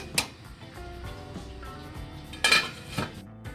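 A spoon scrapes and clinks against a cooking pot and serving dish while whole masoor lentil pulao is dished out, giving scattered metallic taps and a couple of louder clanks close by.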